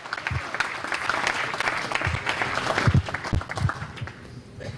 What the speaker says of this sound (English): She doesn't need an introduction, but Molly, another round of applause as she comes forward.